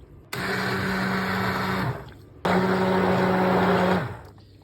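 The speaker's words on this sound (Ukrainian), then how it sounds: "будемо зараз перебивати блендером" A blender whirs loudly through liquid to froth it, in two long bursts of about a second and a half each, separated by a short pause, with a steady motor hum.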